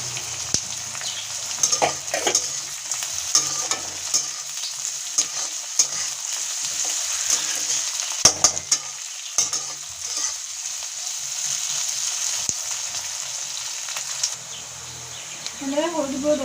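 Chopped green chilies fry in a pan for village-style green mango rice, giving a continuous close sizzle with scattered stirring clicks and scrapes; a faint voice surfaces near the end.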